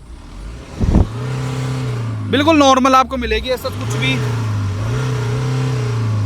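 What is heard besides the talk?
BMW 330Ld M Sport diesel engine revving, exhaust sound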